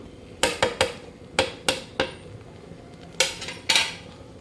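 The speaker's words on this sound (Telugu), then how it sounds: "ఫ్రై చేసి పక్కన పెట్టుకున్న ప్రాన్ ఇందులో కలిపేద్దాము" A metal spoon stirs fried Godavari prawns into biryani in a cooking pot, producing about nine loud, close metallic clanks in irregular bursts with no talking.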